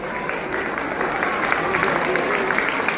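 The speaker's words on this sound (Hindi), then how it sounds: "इनके लिए टीचर्स के लिए भी जोरदार तालियां बजाइए।" A school audience applauds teachers in a dense, steady wash of clapping, with crowd murmur and a voice faintly mixed underneath.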